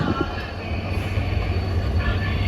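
A train rumbles steadily close by at Botad railway station, a low continuous rolling drone with faint clatter, no voices standing out.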